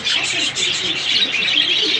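Many small birds chirp and twitter at once in a crowded Friday bird market at Mirpur 1, a dense, steady, fairly loud chorus of high calls with faint background voices.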